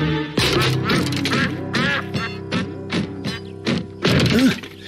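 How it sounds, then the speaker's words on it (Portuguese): A cartoon duck from Pocoyo quacks loudly and close, about seven distinct quacks in an irregular sequence over a few seconds, clear and alone. "O pato! É o pato!"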